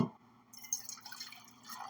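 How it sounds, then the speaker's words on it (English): Coffee is poured into a cup indoors, a faint trickle and light liquid splashing over a low steady hum, quiet and close for a couple of seconds. "Sorry, I'm pouring this coffee."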